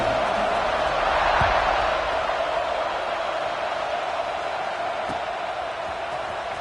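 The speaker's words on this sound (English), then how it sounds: "this crowd is buzzing after that last score" Steady stadium crowd roar from a college football video game, a dense continuous wash of many voices at moderate loudness that holds through the whole stretch, with one or two faint thuds standing out briefly.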